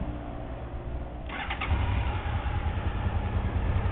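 A Honda VFR800 motorcycle engine cranks and catches on the first try, then settles into a steady, close, low rumbling idle.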